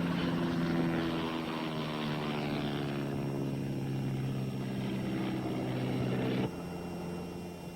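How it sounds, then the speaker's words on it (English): A light propeller airplane drones overhead during a flying lesson, a steady loud engine hum with strong harmonic tones that drops slightly in level near the end, with no talk. "Mom, you go through this every time Steve gives her a flying lesson."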